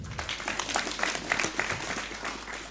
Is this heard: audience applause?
yes